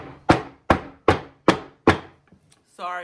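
A tall, skinny soap mold filled with cold-process soap is slammed down on a table five times in a steady rhythm, each a loud close thud, followed by a brief pause and a short burst of other noise.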